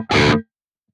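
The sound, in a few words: electric guitar through Archetype Gojira X, presence at noon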